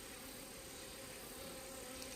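Wasps buzz around a beekeeper's hives in an apiary, a faint continuous insect drone with no voices, steady and distant throughout.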